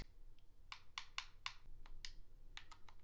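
Typing on a keyboard to enter a web address, a quick run of crisp key clicks at an uneven rhythm, close but quiet over faint background hiss.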